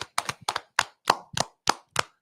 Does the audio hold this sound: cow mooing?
no